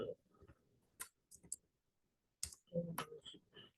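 A computer keyboard is typed on while a price is entered into a software form: a few scattered, irregular clicks and taps close by, with brief low murmuring sounds between them.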